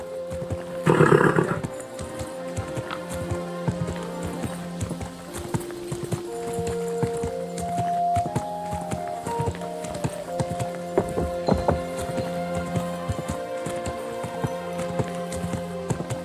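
A horse's hooves clip-clop at a steady walking rhythm in Kingdom Come: Deliverance 2, clear and close against a layer of game music, with one louder burst near the start.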